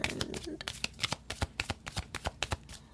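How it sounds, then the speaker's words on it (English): Romance Angels oracle cards being shuffled by hand, a rapid run of crisp riffling snaps and soft slaps repeating in quick bursts, close and clear with no talking. "So let's pull 3 cards from the Romance Angels."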